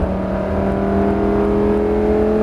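A race car accelerating on the Nogaro circuit, heard as a loud, steady engine drone with a sustained whine throughout, close and continuous with no voices.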